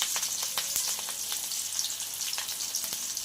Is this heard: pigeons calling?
no